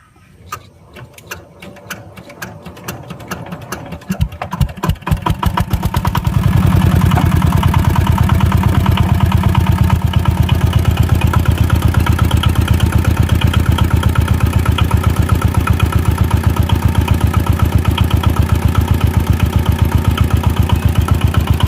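An R 190 engine cranks with rapid uneven firing pulses, then catches and settles into a loud, steady, close chugging idle that runs on without talk.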